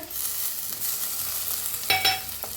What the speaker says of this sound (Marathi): कांदा चांगला भाजायला आलाय, त्याच्यातच टाकूया टमाटर